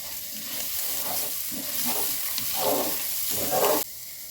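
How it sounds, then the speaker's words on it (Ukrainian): Flour sizzles and fries in a pan while being stirred, a steady close hiss with rhythmic scraping swells from the stirring, no talking. "Борошно треба трошки просмажити"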